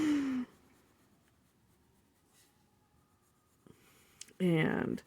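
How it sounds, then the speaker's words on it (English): Graphite shading with a small golf pencil on paper, a soft, faint, steady scratching that runs quietly between brief bits of talk at the start and end. "I am just putting some graphite. And I'm using my little golf pencil."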